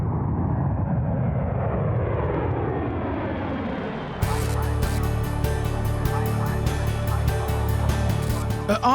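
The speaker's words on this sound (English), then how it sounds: "At RAF Brize Norton in Oxfordshire, the C-17 touches down after a 9-hour flight from Kandahar." A C-17 military transport aircraft lands at RAF Brize Norton in Oxfordshire after a long flight from Kandahar, its engine roar sweeping steadily downward in pitch before a sudden loud, harsh burst of broadband noise takes over, likely reverse thrust after touchdown.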